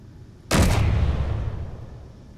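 A single heavy railgun shot in Space Engineers bursts out suddenly and loud, then trails into a long, rumbling decay with nothing else over it.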